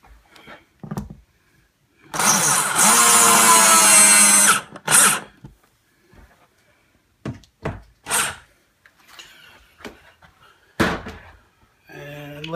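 A power drill whirs steadily for about two seconds while driving screws into a display case during game-room work, followed by a short burst and scattered knocks and handling clatter nearby.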